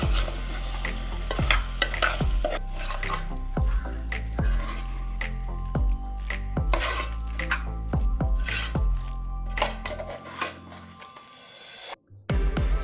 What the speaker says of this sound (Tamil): 1 cup carrot, 1 cup beans, 1 cup பட்டாணி சேர்த்து வெஜிடபிள்ஸ் மசாலாவில் நல்லா மிக்ஸ் ஆகுற அளவுக்கு கலந்து விட்டுருங்க